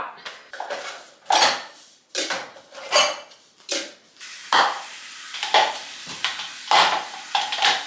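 Dishes being washed and a kitchen cleaned, with repeated clattering of plates, pots and cutlery in irregular bursts, close and fairly loud, with running water and scraping in between.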